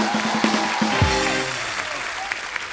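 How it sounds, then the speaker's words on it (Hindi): A steady wash of studio audience applause on a TV comedy show fills the whole stretch, dense and continuous, with a brief low tonal swell partway through. "जोरदार तालियां हो जाएगा"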